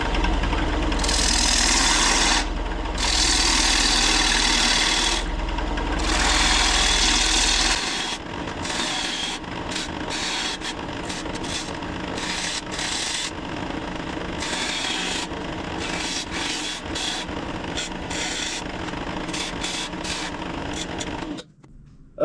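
Firewood spinning on a wood lathe as turning begins, a loud steady motor hum with the gouge rubbing and scraping against the wood, bursts of heavier cutting in the first seconds, then continuous softer scraping until the lathe stops.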